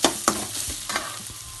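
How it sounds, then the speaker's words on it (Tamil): Oil sizzles steadily in a pan as grated coconut is stirred and fried, with a few sharp clinks of a utensil near the start. "தேங்காய் இதில் எண்ணெய் இதில் போட்டு தாளிக்கல சிம்மில் வச்சு இந்த மாதிரி தாளிச்சுக்கோங்க"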